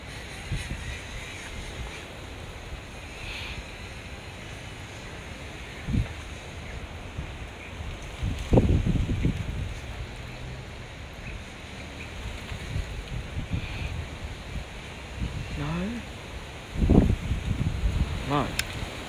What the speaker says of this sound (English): It's currently fighting a lot of wind.